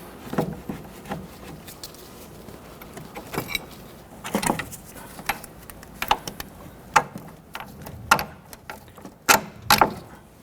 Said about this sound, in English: Remove the bolts here for your strut to knuckle.